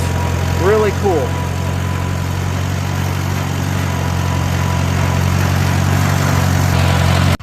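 A Farmall A tractor engine idles steadily with a low, even rumble that stays close and constant throughout, and a brief squeaky sound rises over it near the start.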